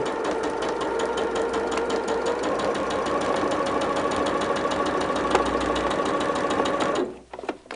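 A sewing machine stitches a quilt border in a steady, close, continuous whir with a fast even stitch rhythm for about seven seconds, then stops abruptly.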